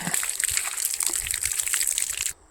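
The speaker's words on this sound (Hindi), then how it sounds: "तो मैं चलता हूँ, पानी पी लेता हूँ" Water is poured and gulped, a continuous sloshing, splashing stream heard up close that stops abruptly at the end.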